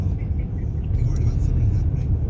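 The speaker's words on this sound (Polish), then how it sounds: "Samochód na wolnych obrotach trochę sobie bardziej bulgota." An Opel Astra K diesel idling with its middle muffler cut out, giving a steady low burbling rumble that runs continuously at close range with no speech over it.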